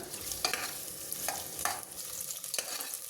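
Sliced onion frying in hot oil for an Avarekalu bath, with a steady close sizzle and a few sharp clinks of a stirring spoon against the pan.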